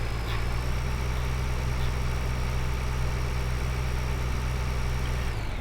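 A tractor engine running steadily in Farming Simulator 2013, a constant droning idle with a strong low hum, close and unchanging until it cuts off near the end.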